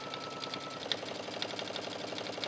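A sewing machine runs steadily, stitching a shirt button placket on a shirtdress with a fast, even mechanical whir and rhythmic needle ticks, close and continuous.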